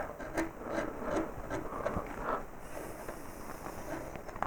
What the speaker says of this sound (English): I could probably take the same gouge to begin with, and just start rounding this edge over like this